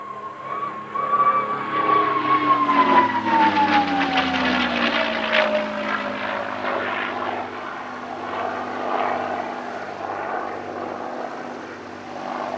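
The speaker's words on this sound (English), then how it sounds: "The Spitfire we just saw, being a late model example, was fitted with a Griffon, of course." A late-model Spitfire with a Rolls-Royce Griffon engine passes during an air festival flying display, its propeller engine droning loudly with a falling pitch as it sweeps by, then fading to a steady distant rumble.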